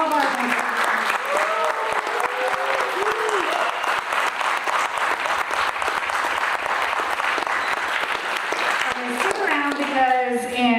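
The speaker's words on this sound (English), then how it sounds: "let's give a big round of applause for all of our" A film festival panel audience gives sustained, steady applause throughout, while a voice talks loudly over the clapping near the start and again at the end.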